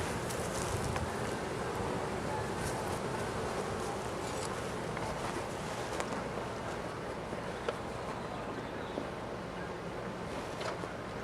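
Steady dense buzzing of many honeybees swarming around an open hive during an inspection, a continuous drone close by with no voices over it.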